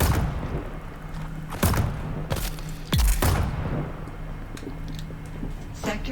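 An automated turret fires during a fight in the survival game Dune Awakening: several heavy, booming shots at irregular intervals over a continuous rumbling background, fairly loud, with occasional game sounds between them.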